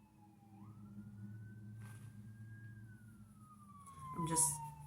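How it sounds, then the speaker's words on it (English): A distant emergency vehicle siren rises and falls as a steady wailing tone above a low background hum, holding faintly across the whole stretch without fading. "I'm hearing siren right now."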